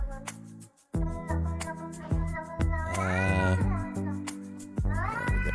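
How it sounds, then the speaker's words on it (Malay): A children's song about a cat plays loudly, its bright tune woven with repeated sung or recorded meows that rise and fall over a full backing track, with no one talking over it. "Kita dengar bunyi lagu kucing lah ya."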